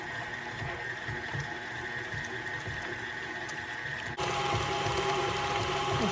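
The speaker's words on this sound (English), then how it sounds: "I'm going to mix it in my KitchenAid mixer." A KitchenAid stand mixer whirs steadily as it beats a beer cheese dip, a close mechanical drone that jumps to a louder, higher speed partway through, with no voices.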